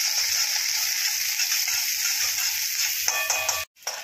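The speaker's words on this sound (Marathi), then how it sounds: "त्याच्यामध्ये घालूया आपण बारीक केलेला कांदा. फ्राय करून घेऊया." Chopped onion sizzling in a pan over lowered gas heat, a steady bright hiss running throughout with faint ticking stirs near the end and a brief dropout.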